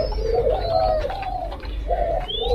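Spotted doves kept in breeding cages coo loudly and close by, with repeated soft rolling calls from several birds over a low background rumble.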